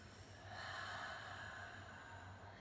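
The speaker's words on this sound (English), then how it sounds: "taking a few deep breaths into the nose and out through the mouth" A slow, deep breath is drawn in through the nose and let out through the mouth during a guided breathing exercise, a soft, steady, airy rush heard close up with no talking.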